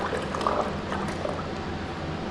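Water rinses a KA24DE cylinder head during a DIY rebuild, a continuous close splashing and gurgling wash with brief trickling swirls.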